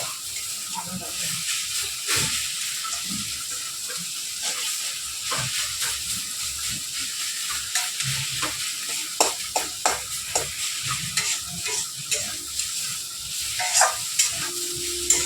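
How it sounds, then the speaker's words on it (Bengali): Greens frying in a pan with ginger and turmeric make a loud, steady hiss and sizzle. A spoon stirs them through it with scrapes and sharp knocks that grow more frequent toward the end. "একটা ভাজা ভাজা করে দেবো"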